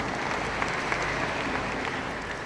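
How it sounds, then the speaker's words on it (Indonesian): Steady audience applause at an official Indonesian ceremony with regional officials present, a few seconds of dense clapping heard from within a large hall, moderately loud and continuous. "tepuk tangan"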